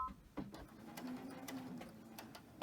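A sewing machine stitches cotton fabric with a soft, quiet whirring hum and faint mechanical clicks, running steadily close by for a few seconds, with no talking.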